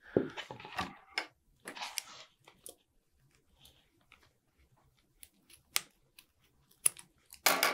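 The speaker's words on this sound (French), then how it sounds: "On va aller couper l'excédent." Scissors snipping excess grip tape off a pickleball paddle handle, a few soft crisp cuts and tape crinkles close by, separated by quiet gaps, with no talking.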